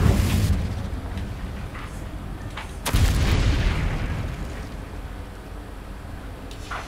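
Confringo fire-blast spells in the Hogwarts Legacy video game, heard as loud booming bursts, one at the start and a heavier blast near the middle, followed by a rumbling decay with no talking.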